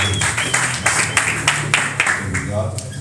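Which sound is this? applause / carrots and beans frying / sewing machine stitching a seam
applause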